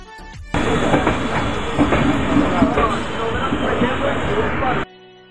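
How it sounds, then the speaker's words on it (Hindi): Rajendra Nagar–Saharsa Intercity Express rolling out of the Patna yard at Rajendra Nagar Terminal, a continuous rumble and rattle of coaches with faint clicks, heard from inside the train amid background chatter. "हमारी train Rajendra Nagar terminal Patna yard से निकलते हुए"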